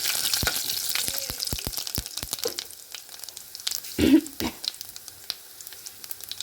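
Cumin seeds and curry leaves frying in hot oil for a tempering, with a burst of close sizzling around the middle and a series of sharp pops and crackles before it.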